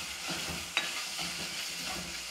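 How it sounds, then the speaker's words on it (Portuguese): Bacon frying in a pan, to be used for seasoning beans, gives a steady, quiet crackling sizzle throughout, with one small sharp pop. "Bacon aqui fritando."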